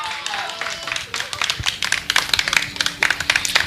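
Audience clapping in support of a speaker making a fiery speech, with scattered claps building into denser, uneven applause mixed with voices and crowd noise.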